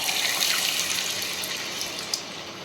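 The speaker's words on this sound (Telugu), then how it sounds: "దీన్ని ఇప్పుడు నిదానంగా ఆయిల్లో వేసుకుందాం." Garelu dough (chekka garelu) slid into hot oil, a steady bright hiss and crackle of frying filling the whole stretch, loud and continuous with no voices.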